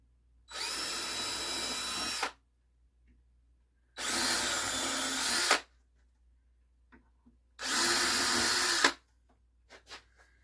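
Three separate bursts from a power drill driving screws in a workshop, each a steady whir lasting under two seconds, separated by short pauses, with faint clicks afterward.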